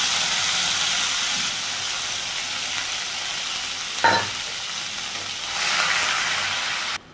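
Whole garam masala, onion paste and green chili paste fry in oil in a pan with a continuous close hiss and sizzle, a brief stir or clatter partway through, and a louder surge of sizzling near the end.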